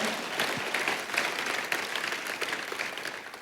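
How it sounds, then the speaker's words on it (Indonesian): A church congregation clapping together, a dense, lively burst of applause from many hands filling the room, loud and sustained throughout with no clear voices on top. "kita kasih tepuk tangannya yang paling meriah buat Tuhan kita"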